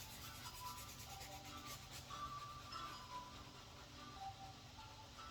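Charcoal on paper being smoothed and blended with a blending stump, a steady soft rubbing and scraping that runs continuously at close range with no talk.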